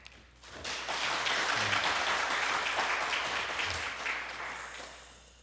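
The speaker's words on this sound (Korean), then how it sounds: "우리 지우한테 박수 한번 쳐주죠." A church congregation applauds a child during a Sunday morning worship service, a broad sustained clapping that swells quickly and holds steady before tapering off near the end.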